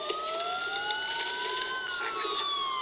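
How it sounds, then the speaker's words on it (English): Police sirens wailing in the Batman: Arkham Asylum video game, several overlapping rising and falling tones held steadily throughout at moderate distance, alone without speech. "Sirens. The police."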